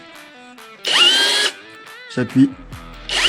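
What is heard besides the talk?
battery-powered tool setting metal anchors in plasterboard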